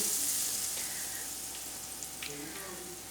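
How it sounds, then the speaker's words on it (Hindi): Sandwich dipped and frying in hot oil, a steady bright sizzle close by that eases off slightly over a few seconds, with no talking. "इस तरह इसके अंदर डिप करेंगे, तो इस तरह फ्राई करेंगे"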